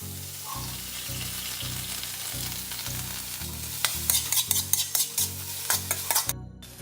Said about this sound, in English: now he's adding the chicken to the sauteed veggies